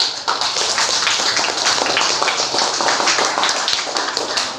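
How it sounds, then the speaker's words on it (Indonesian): A room full of people at an Indonesian teachers' coaching session claps in sustained group applause, loud and dense for several seconds. "Kalau begitu semuanya beri aplaus"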